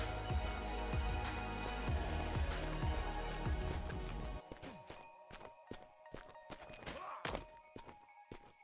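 Horse hooves clip-clopping in the online game Mortal Online 2, a rhythmic run of thudding steps over loud game ambience, then sparser separate hoof thunks once the background drops away.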